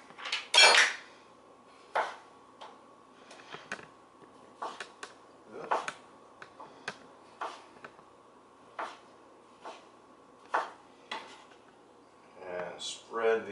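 A knife slicing a tomato on a cutting board, giving a series of sharp, irregular taps and clacks spread across the stretch. Close but fairly quiet, with a faint steady hum under it.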